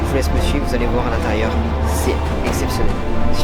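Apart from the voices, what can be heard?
No everyday noise stands out behind the speech.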